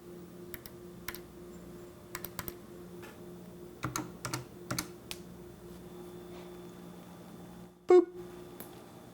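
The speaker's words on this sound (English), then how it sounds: "here's a video example showing me pressing buttons." Buttons on a Razer Wolverine Ultimate game controller being pressed, giving sparse clusters of crisp, close clicks over a quiet background hum, ending in a brief louder beep.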